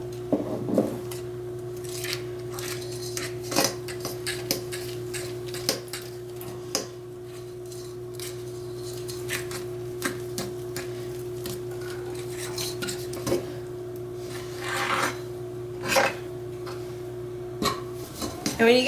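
Gluten-free sugar cookie dough is mixed by hand in a bowl, with intermittent scraping and clinking of a utensil against the dish over a steady background hum, close and fairly quiet.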